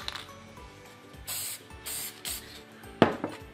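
Matte fixative sprayed over drawings for a second coat: three short, steady aerosol hisses in a row, followed by a sharper knock or rattle near the end.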